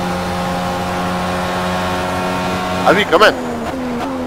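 IndyCar race car in a racing video game, engine whining loud and steady at high revs, then a burst of downshifts during braking while someone briefly speaks over it.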